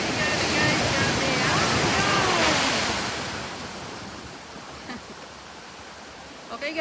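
Surf breaks and washes up onto West Beach, a strong rushing roar for the first few seconds that slowly fades to a softer hiss as the water recedes, close to the listener with no clear talk.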